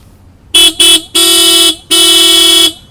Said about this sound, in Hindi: बहुत ही तेज़ हॉर्न है इसका,